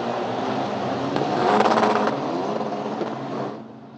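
A Formula Master single-seater race car with a Tatus chassis on the Hockenheimring circuit, a steady engine drone that swells briefly in the middle, then drops away near the end.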